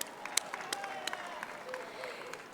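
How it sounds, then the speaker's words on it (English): An outdoor crowd at a Philippine flag raising ceremony applauds, with scattered claps and a soft murmur of voices at a fairly distant, faint level. "Let's give that another round of applause."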